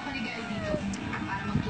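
A small child imitates a cat's meow in a playful animal-sounds game, a short voiced mew with other chatter and background noise around it, near and moderately loud.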